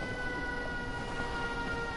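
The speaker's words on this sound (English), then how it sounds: "now the siren's going off" Siren going off at a fight venue, a steady, continuous wail that holds throughout with no pauses and no voices heard.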